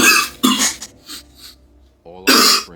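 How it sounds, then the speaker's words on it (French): A person coughs a couple of times in quick succession, near and fairly loud, with a throat-clearing quality and some talking around the coughs. "Je vais tousser."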